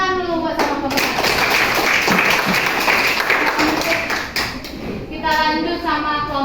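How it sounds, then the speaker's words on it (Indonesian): A classroom of students claps during a microteaching practice session, steady close clapping under children's chatter and talk, dipping briefly before picking up again. "Tepuk tangan dulu buat sama pemerintah."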